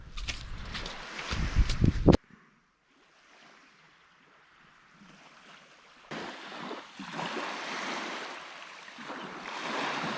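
Waves washing onto the shore of Lake Issyk-Kul in Kyrgyzstan: a soft, steady surf wash. A loud burst opens the sound, then it drops almost to silence before the lapping swells back at moderate level.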